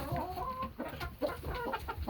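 Chickens cluck and murmur in short irregular bursts close by as they are let out of their pen on an evening, a busy mix of overlapping calls.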